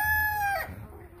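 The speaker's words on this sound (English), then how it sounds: "This is one pretty chicken." A nearby rooster's crow trails off, followed by a soft low chicken cluck against quiet farmyard background.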